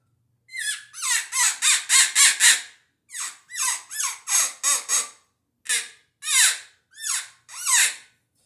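A FoxPro hand-blown predator call blows rapid bursts of shrill, squealing cries imitating a distressed bird, in rhythmic runs of five to six notes with short pauses between them.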